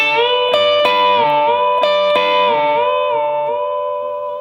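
Electric guitar notes ring out as a string is bent up a full step in pitch, with a few picked attacks and sustained tones fading gently.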